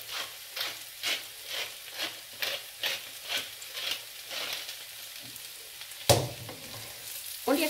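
Garlic and vegan Schupfnudeln fry in a pan, giving a soft sizzle with rhythmic stirring scrapes, followed by a sharper clatter of a utensil near the end.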